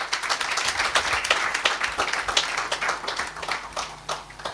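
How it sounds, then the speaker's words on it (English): Audience applause at a KATIBA constitutional commemoration conference in Nairobi, honouring the Law Society of Kenya president: dense, steady clapping from many hands that fills the whole stretch without a break. "Please give her a round of applause."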